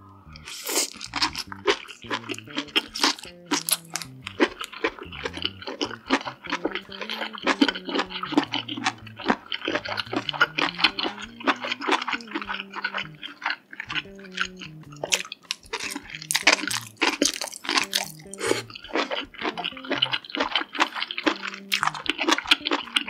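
Close, loud crunching and chewing of king oyster mushroom, fried chicken and noodles, with crisp bites and wet mouth sounds repeating steadily throughout, with no talking.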